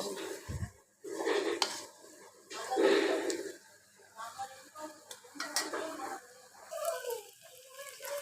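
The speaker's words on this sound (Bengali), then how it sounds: "নেড়ে চেড়ে একদম সম্পূর্ণ পানিটা শুকিয়ে" Taro greens cooked with hilsa fish bones are stirred in a pan as the liquid cooks off, giving irregular scraping and clinking strokes with a soft background sizzle, fairly close but moderately quiet.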